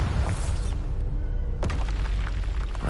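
The Bombarda spell explodes in the Hogwarts Legacy video game as a loud, dense booming blast with rumbling low end and a sharp burst midway, crashing debris trailing off.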